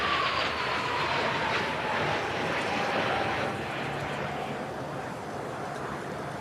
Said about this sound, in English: you heard just how quiet that aircraft was as it passed by